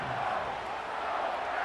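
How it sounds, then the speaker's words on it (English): Football stadium crowd at a Lions versus Packers game roaring loudly and continuously, a dense sustained wall of noise with no break. "This crowd trying to force a false start here."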